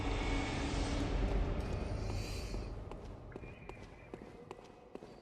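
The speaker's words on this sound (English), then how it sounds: "I hear footsteps." Footsteps in the video game Bloodborne, with sharp, spaced steps in the second half after a louder rushing start, heard fairly close and with no talk over them.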